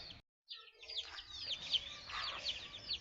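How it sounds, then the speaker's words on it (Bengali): A chicken at a neighbouring house, faint, distant clucks and short calls repeating over quiet outdoor background after a brief silent gap. "পাশের বাসার মুরগি"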